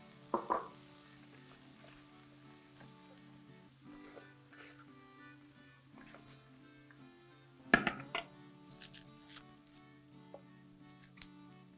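Cooking wine poured into a hot pan gives a sharp sizzling burst near the start and another louder one around the middle, with frying crackle and faint kitchen clatter in between; no one speaks.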